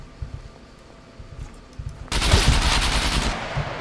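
Gunfire from the video game SCUM during a PvP fight: a few sparse shots at first, then a sudden loud sustained burst of rapid automatic fire that carries on to the end.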